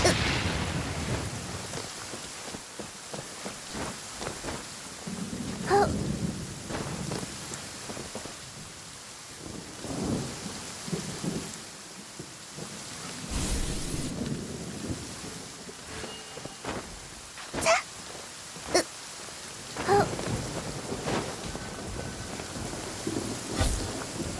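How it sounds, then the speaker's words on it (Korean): Rain and rolling thunder from a lightning storm in a fantasy video game, steady rainfall throughout with several sharp, loud thunder cracks breaking out over it. "저 운명을 알리는 신성한 심판의 번개를 봐."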